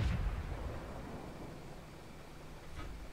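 An artillery shell booms out in a tank battle game with an A-43 tank on the field, a loud blast at the start that fades into low rumble, followed by a fainter second report near the end.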